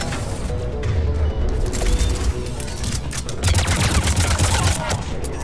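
Sniper gunfire from enemies in the Mass Effect 3 video game, a dense run of sharp cracks and overlapping shots over a loud rumbling battle bed, continuous and close throughout with no voice heard.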